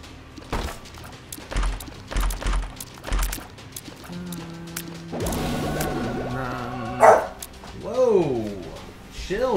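A few dog barks and whimpering yelps in the Isaac Afterbirth video game, amid game effects and a descending whine, with talk over them.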